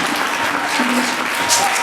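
Church congregation applauding, a steady, dense wash of clapping with some voices mixed in, loud and close throughout.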